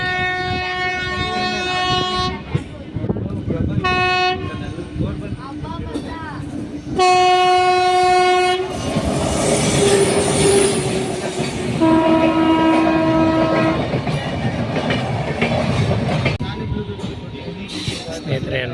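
A passenger train on the Anekal to Hindupur line runs on the rails, its loud steady rumble and wheel clatter continuing throughout, with a long horn blowing repeatedly and background noise from inside the carriage.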